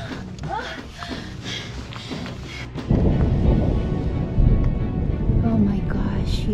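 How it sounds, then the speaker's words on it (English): A deep rumble of thunder from a thunderstorm on a hike near Lake Tahoe rolls in and swells loud midway, over a steady rain-like wash, with a voice speaking near the start. "Thunderstorm. Thunder."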